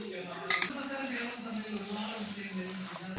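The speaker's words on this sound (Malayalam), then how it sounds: "ഇനി ഇതെല്ലാം കൂടെ നല്ലതായിട്ട് ഇളക്കി കൊടുക്കണേ" A spoon stirs jackfruit batter mixed with jaggery syrup, cardamom, dry ginger and cumin powder in a metal vessel, with a few sharp clinks of the utensil against the pot early on over a faint steady background.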